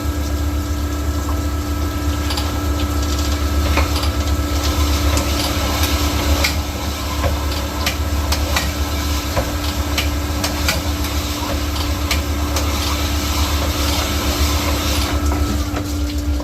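A cylinder hone machine works through the worn cylinders of an AMC 304 engine block, making a loud, steady mechanical drone with a constant hum. It runs without a break for the whole stretch, and no one speaks.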